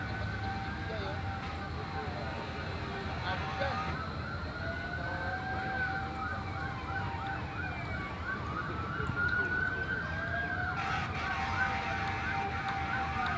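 A fire truck siren wails, rising and falling repeatedly at a distance during a fire in Caloocan, heard over a steady roar of background noise and crowd murmur.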